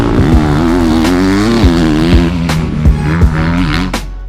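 A 2018 KTM 250 SX-F four-stroke motocross bike is ridden hard on a rough track, its loud engine revving up and down in quick bursts, with sharp gear changes and throttle blips close by.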